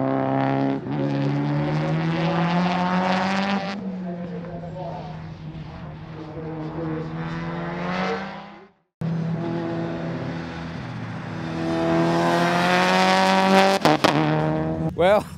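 A turbocharged Mitsubishi Lancer Evolution race car with a sequential gearbox: loud, strongly pitched engine drone that holds, drops away briefly, then climbs through revs, with a voice talking over it.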